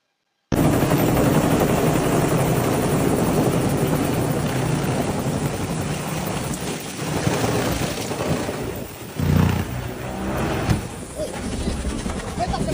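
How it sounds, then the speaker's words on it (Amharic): A helicopter flying over a recreation area in the United States shortly before crashing, its rotor roar steady, loud and continuous with wind buffeting the microphone throughout. "እስኪ የወደቀውን ሄሊኮፕተር እንመልከተው።"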